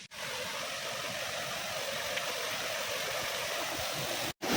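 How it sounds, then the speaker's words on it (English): Rabandhara waterfall in Odisha gives a steady, even hiss of rushing water, constant and moderately loud, broken only by a brief dropout near the end. "यही तो बड़ा वाटरफॉल है"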